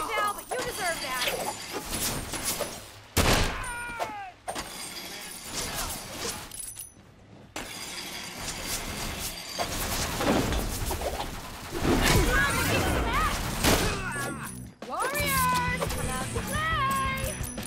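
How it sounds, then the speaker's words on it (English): Cat meowing in the video game Sunset Overdrive, several short rising and falling meows scattered among game effects, crashes and music, with a voice talking at times. "That's my cutie kitty."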